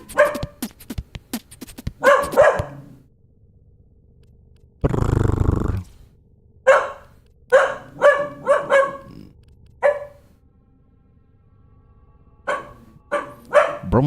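A female dog barks in short bursts, loud and close, each bark with a gruff, revving quality, with a burst of broadband noise midway and pauses between groups of barks.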